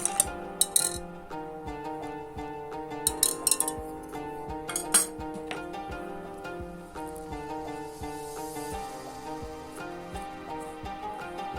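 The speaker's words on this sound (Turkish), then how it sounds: "Tamamen homojen bir karışım olması için biraz daha karıştırıyorum." A spoon stirs pide batter in a bowl, giving scattered clinks and scraping taps over soft background music, with no talking.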